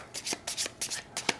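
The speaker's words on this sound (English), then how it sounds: "I gotta shuffle this." Playing cards riffle and flutter in quick repeated bursts, a close shuffling rhythm of soft papery flicks.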